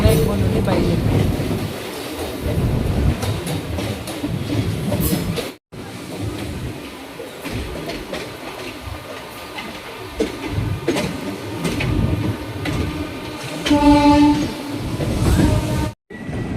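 An express train rolls into Chennai Egmore station, its steady rumble and clattering wheels filling the scene, with a horn sounding briefly near the end.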